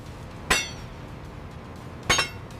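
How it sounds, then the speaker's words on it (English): A bolt being tightened on a suspension bridge walkway during construction gives two sharp metallic clinks about a second and a half apart, close and distinct over quiet background. "Keep it steady while I tighten this last bolt."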